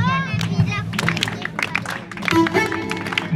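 A church congregation claps along to singing, with a steady stream of hand claps mixed under a prominent voice and a lively crowd atmosphere.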